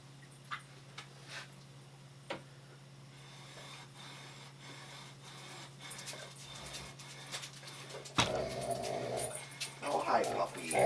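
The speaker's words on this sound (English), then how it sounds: "Oh, hi, puppy." A pet dog panting and whimpering near a workbench where an axe is being restored, soft close breaths and whines with a few ticks, growing busier and louder toward the end.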